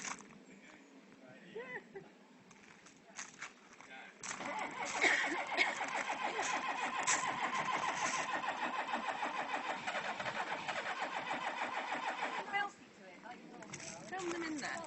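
A car engine cranking repeatedly without catching, a long whirring starter drone of about eight seconds after shorter attempts, with people talking around it.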